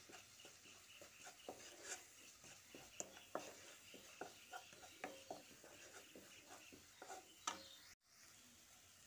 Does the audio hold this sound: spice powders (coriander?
yes